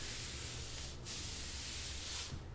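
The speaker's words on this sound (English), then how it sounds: "First issue with this bottle is it only likes to spray when completely upright." A spray tan bottle sprays onto legs as a steady, close hiss of fine mist. It breaks off briefly once near the middle and then carries on.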